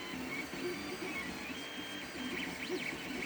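A 3D printer runs with a blocked nozzle, giving a steady whirring motor drone with faint rising and falling stepper whines, close and constant without voices.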